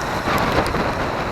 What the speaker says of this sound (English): Got caught in the rain, like purely soaked from head to foot.